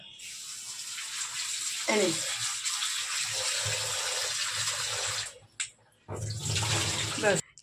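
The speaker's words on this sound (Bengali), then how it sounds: "এখন চটপট করে আঙ্গুরটা ধোবো" Grapes being washed under running tap water in a home kitchen, a steady splashing gush that stops briefly and resumes, with a short faint voice near the start.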